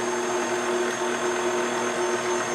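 An electric mixer whirs continuously and evenly at close range as it mixes blue velvet cupcake batter, with its steady motor tone unbroken throughout.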